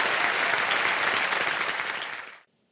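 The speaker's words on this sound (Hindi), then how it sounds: "एक बार तालियां बज जाए इनके लिए" A studio audience on the set of the quiz show Kaun Banega Crorepati applauds in a dense, steady burst of clapping that holds for over two seconds and then cuts off sharply.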